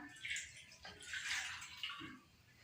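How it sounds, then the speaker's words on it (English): Hot water poured into a pan holding green orange zest for marmalade, a splashing, gurgling pour in two surges, moderately close and with no talking. "when you pour hot water in it, it releases this green color and some oil"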